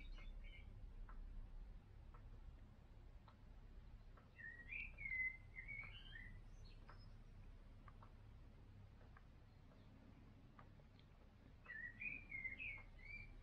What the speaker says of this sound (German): weil die Amsel so schön singt.